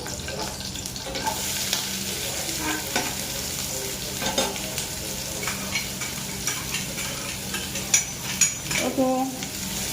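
Steady sizzling of green chillies and onions frying in a pan, with occasional stirring scrapes and clinks throughout.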